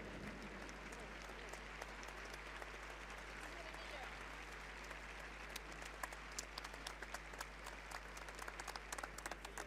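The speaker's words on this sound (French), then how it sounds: "nous allons vous inviter à continuer vos applaudissements" Sustained applause from a large audience at a show jumping event in the Grand Palais, a steady dense clatter of clapping throughout, with crisper individual claps near the end over a low hall hum.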